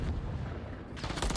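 A pump shotgun fires once in a Call of Duty League match, a brief dense blast rising out of a muffled, busy game mix.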